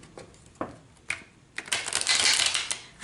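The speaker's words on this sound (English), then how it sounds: "just do a quick, immediate shuffle." A deck of large reading cards is shuffled close up: a few light taps and flicks, then a dense, rustling burst of cards riffling together.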